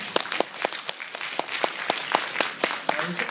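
An audience at an Expo brand concert orientation breaks into applause, a steady patter of many hands clapping that fills the moment without pause, moderately loud and close.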